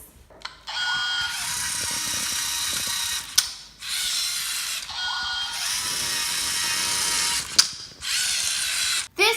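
A Lego kit robot from a First Lego League build runs its demo program, giving two long stretches of loud, steady whirring motor and gear noise, each ending in a sharp click, with brief pauses between.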